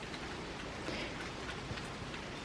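Steady light rain falls outside, a soft even patter of drops on surfaces, faint and continuous with no voices.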